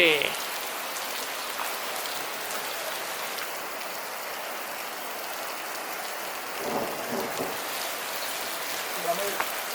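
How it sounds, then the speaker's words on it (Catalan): Steady rain pours down in a continuous broadband hiss during a thunderstorm in northern Spain, with a low rumble of thunder rolling in near the end. "segon dia de tempesta. Els trons, la pluja."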